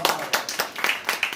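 Audience applause at an MSME awareness seminar, a small group clapping in loose, uneven bursts close to the microphone, with distinct individual claps audible.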